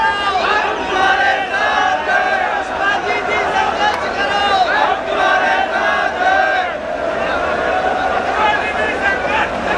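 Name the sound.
crowd applause welcoming a speaker on stage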